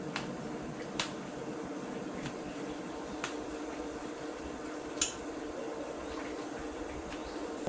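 Sabudana vada dough is cut with a kitchen utensil, producing a few sharp, sparse clicks and taps against a surface, fairly quiet and without talk.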